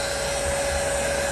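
A heat blower warming newspaper-print wallpaper during installation gives a steady, close airy whoosh with a constant motor whine, unbroken and moderately loud.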